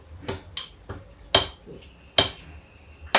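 Garlic cloves are crushed by hand for a homemade garlic pain-relief oil, giving several sharp, irregular knocks and clatters about a second apart, close and fairly loud, with no talking.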